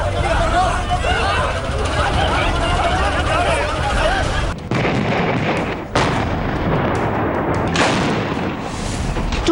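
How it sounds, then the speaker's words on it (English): Artillery shells and rockets fire across the Line of Control during the Kargil war: heavy, rumbling blasts mixed with noisy background clamor and voices, loud throughout with a few abrupt breaks. "bombs and rockets were fired by India across the LOC to bring Pakistan to its senses in the Kargil war"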